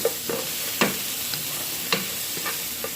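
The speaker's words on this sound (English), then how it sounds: "Get them stirred around about 3-4 minutes till translucent" Onions sizzle in a hot pan under steady stirring, with a continuous frying hiss and several sharp spatula scrapes and taps spaced irregularly throughout.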